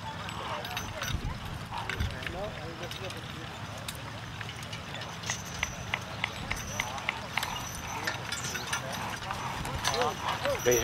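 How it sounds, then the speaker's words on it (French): Working horses at a plowing contest, their hooves clip-clopping steadily at a moderate distance, with people talking in French throughout. "les chevaux qui travaillent là"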